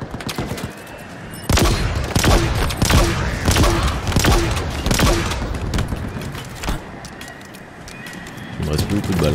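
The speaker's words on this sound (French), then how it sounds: "Je savais pas que l'arme Hydra était téléguidée en fait." The Hydra guided weapon fires in Halo Infinite: bursts of rapid shots crack out repeatedly, loud and near, with someone talking over the gunfire.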